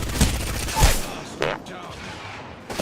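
Smart bullets fired in a video game: a few sharp gunshot bursts, two strong close reports early, then a lighter crack and a faint later shot, with low background noise between.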